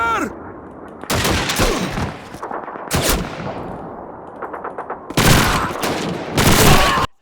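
Soldiers' gunfire in the World War II shooter Call of Duty 2: bursts of rifle and machine-gun fire crackle in loud clusters, separated by brief lulls, with metallic clangs and distant booms between volleys.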